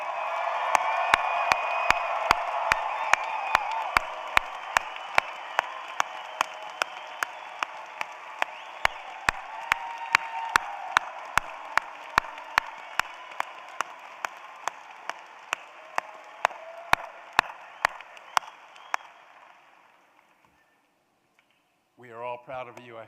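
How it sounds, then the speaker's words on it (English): Sustained applause and cheering from graduates at a spring 2022 College of Nursing commencement ceremony, with dense clapping and crowd noise throughout that slowly fades, followed by a brief spoken voice at the end. "and everyone cheer"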